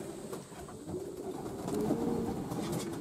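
Pigeons coo softly in a low, rounded murmur on a humid morning after rain, faint and close, with a quiet outdoor background.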